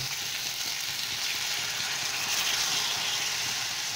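Steady, loud hiss of water hitting a hot pan of stalks already fried down with spices in oil on a medium flame, a continuous sizzle with no break and no voices.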